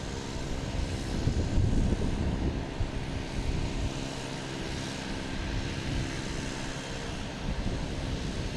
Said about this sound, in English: We got Spirit Airlines coming in from Charlotte.